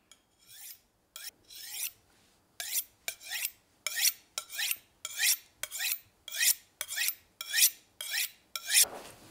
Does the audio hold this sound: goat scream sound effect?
no